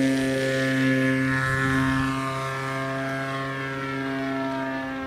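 A Sbach 342 RC plane with an O.S 95AX engine flies steadily overhead, its propeller and engine making a loud, continuous buzzing drone with strong harmonic whine.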